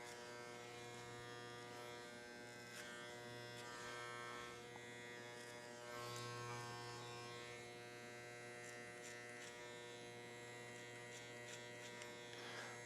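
An electric hair clipper gives a steady high buzz as it trims a man's short haircut, faint and continuous, with slight shifts as it moves through the hair.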